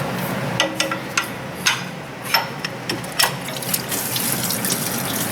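Coolant from a Honda J35 V6 engine draining into a bucket after the water pump is pried loose, a steady close splashing pour of liquid with intermittent sharper trickles and clicks, no talking.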